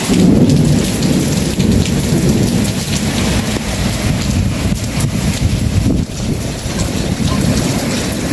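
Thunder rumbles low and long through a heavy downpour in Saudi Arabia, the rain hissing constantly with wind buffeting the microphone.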